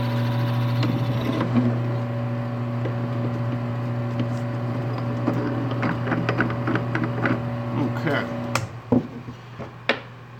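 A drill bores holes in pen blanks, giving a steady, close motor hum with a strong tonal whine that runs for most of the stretch, then cuts off, leaving a few scattered clunks and knocks.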